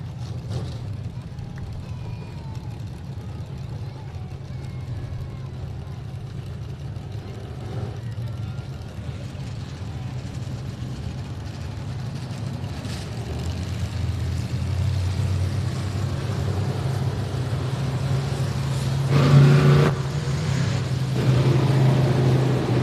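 Limited modified race cars run at Lonestar Speedway, a low engine drone carrying from a distance and swelling louder near the end, with a voice talking over it.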